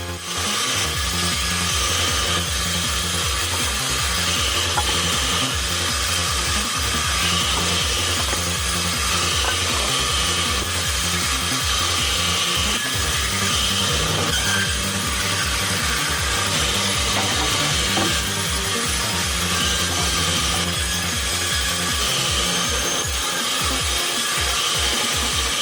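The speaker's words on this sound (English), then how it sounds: "The bandsaw's sound is kinda hypnotic, right?" A bandsaw cuts through jackfruit logs with a continuous harsh, gritty rasp of blade on wood, loud and close, rising and falling in strokes over a steady machine hum.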